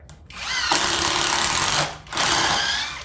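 A Greenworks 24V cordless drill or impact driver whirs at a steady high pitch for about a second, stops briefly, then spins up again for another run.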